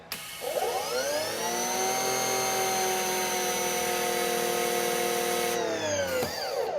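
An EGO 56V battery-powered pressure washer, rated 3200 PSI and 1.2 GPM, spins up and runs with a steady high electric whine and water hiss, close and loud, then winds down near the end.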